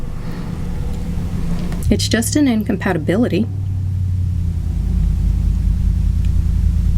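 A low rumbling roar of road traffic builds and swells as vehicles pass close by, with someone talking briefly over it.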